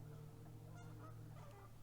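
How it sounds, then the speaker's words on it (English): Geese calling on a small island, a steady run of low honking and clucking notes close by over a constant low hum. "They're clucking. I see bottles I need to get, but I don't want to disturb the geese."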